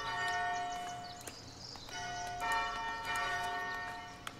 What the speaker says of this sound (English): I can make the bell chime.